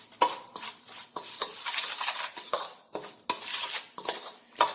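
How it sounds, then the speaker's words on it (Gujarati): Carrot pickle being mixed with spices, a utensil scraping and clinking against a metal vessel in repeated stirring strokes, close and fairly loud with short pauses between bursts. "બધું બરાબર આપણે મિક્સ કરી લઈશું"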